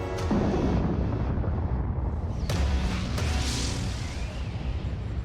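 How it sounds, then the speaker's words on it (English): Deep rumbling blasts from a volcanic crater on an island, loud and continuous, with sharp bursts around the middle standing out above a sustained low roar. "Explosions boom from the bottom of the crater every 10 minutes."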